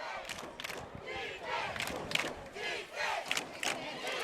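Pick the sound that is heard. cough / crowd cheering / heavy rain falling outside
crowd cheering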